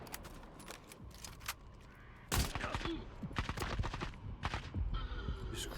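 Bursts of rapid gunfire in the shooter game STALKER 2, quieter at first and then louder, dense volleys from about midway, with no talking.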